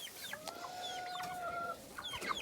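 Jubilee and other young chickens clucking in a homestead coop, with a few short, faint clucks and chirps over steady outdoor background noise.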